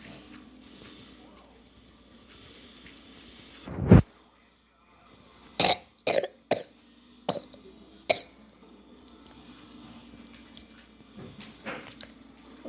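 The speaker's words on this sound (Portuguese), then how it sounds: "eu tô tossindo também." Several sharp coughs come in a short burst, one strong cough followed by a quick cluster of smaller ones over a faint background hum.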